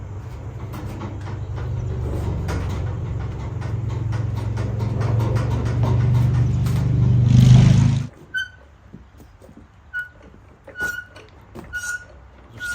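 A vehicle backing up a trailer holds a loud, steady engine rumble for about eight seconds that swells slightly and then cuts off abruptly, followed by quiet scattered clunks and knocks.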